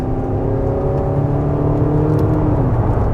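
Mercedes GLA 200d diesel SUV accelerating hard with a steady engine drone and whir that rises in pitch. An automatic gearbox shifts up during a handling test, heard from inside the cabin with no talking.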